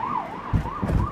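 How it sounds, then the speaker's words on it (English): An emergency vehicle siren wails in a smooth rising and falling sweep, heard from a balcony on New Year's Eve amid fireworks, with low thuds rumbling beneath it. "And of course, you can also hear a siren in the background there."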